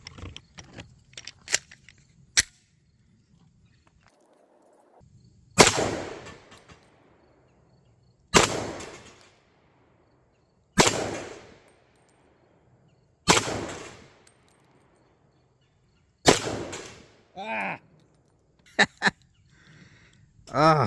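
A Glock 31 pistol fires .357 SIG rounds at an outdoor range, about seven sharp, loud shots spaced a few seconds apart, with faint talk and small clinks between them.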